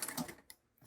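A manual treadle sewing machine stitches along a drawn line: a quiet run of rapid mechanical clatter that stops briefly, then resumes faintly.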